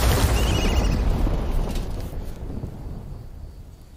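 Rolling thunder from a thunderstorm in an animated show, a loud broad rumble that starts strong and slowly fades over a few seconds, heard alone without talk.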